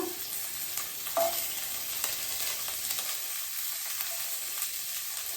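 Garlic and ginger frying in a pan give off a constant bright sizzle, with a couple of sharp clinks and stirring scrapes early on before the hiss settles.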